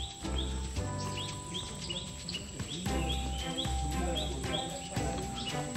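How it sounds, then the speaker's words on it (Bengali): Birds chirp and call in the Sundarbans mangrove forest, in faint, scattered bursts over a steady low rumble and hum, without talk. "এখানে পাখির শব্দ মিছির মিছির অনেক ভালো লাগতেছে।"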